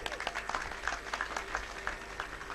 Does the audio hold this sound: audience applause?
yes